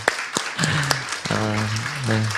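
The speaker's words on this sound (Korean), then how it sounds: "한 박수 한번 해 주시죠." Audience applause at a school admissions information session, a burst of clapping from a seated crowd with a few voices murmuring over it, short and fairly close.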